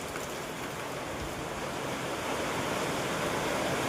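Strong storm wind roaring steadily on a building terrace during wind and rain, a dense, loud, unbroken rush with no voices.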